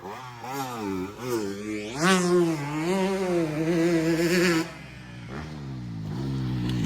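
A motorcycle engine on light throttle at a riding camp in Spain, its steady drone rising in pitch for a moment before easing off and then building again, close and fairly loud throughout.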